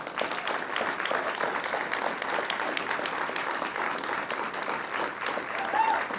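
Warm, continuous audience applause in a hall during an evening talk with Schuyler Bailar, many hands clapping at a steady level with a faint murmur of the crowd beneath.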